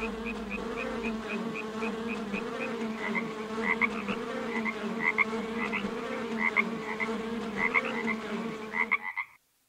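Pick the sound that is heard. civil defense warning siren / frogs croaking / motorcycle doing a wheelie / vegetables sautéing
frogs croaking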